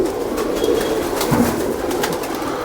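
A Sialkoti pigeon coos softly in a few low, rounded notes over steady background noise, with no talking.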